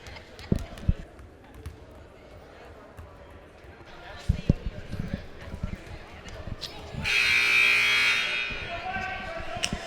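A loud, sustained electronic buzzer sounds for over a second during a high school boys basketball game, following sneaker squeaks and ball bounces on a gym floor while voices talk in the background.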